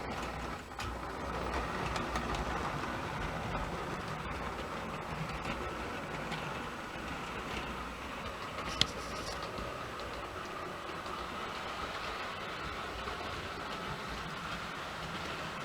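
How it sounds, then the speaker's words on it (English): A model train runs on a home railway layout, making a faint, continuous rolling rumble with a brief sharp click partway through, heard alone in a quiet room. "The last train on the Highland Valley Railway."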